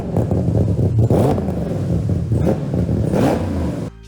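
A freshly built 40-valve V10 mounted on an engine stand in a home garage runs loud and close, a rough throbbing idle with rising revs and crackling bursts that suddenly cut off near the end.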